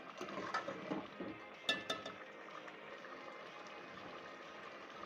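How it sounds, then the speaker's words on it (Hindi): Spoon clinking and scraping in a pot while tomatoes and onions are mashed with masala and meat for palak gosht, with faint bubbling underneath; a few sharp clinks stand out near the start before the sound settles into a steady low simmer. "इसमें जितने भी टमाटर और प्याज नज़र आ रहे हैं, चमचे की मदद से इसको मैश कर लें।"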